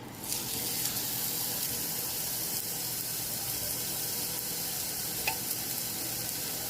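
Burger patties hiss and sizzle steadily and loudly on a hot grill, with a few faint clicks and taps over the constant frying noise.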